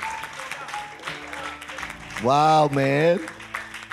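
A church congregation claps its hands in a steady patter beneath a preacher's excited exclamations, which rise loudly over the clapping midway through.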